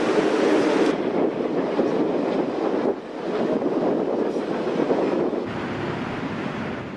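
A steam train rolls through Browns Canyon in Colorado beside river rapids, giving a steady loud rush of rail and rushing-water noise that shifts in level partway through, with no talk.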